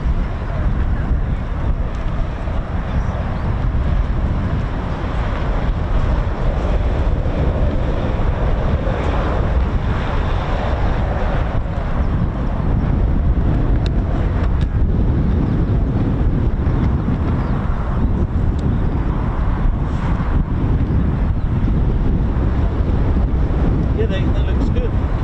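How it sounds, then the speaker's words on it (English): Wind buffeting the microphone outdoors at RAF Waddington airfield, a constant loud rushing roar with gusty low rumble lasting throughout, no other clear sounds standing out. "it's lovely when the wind just calms down a little bit"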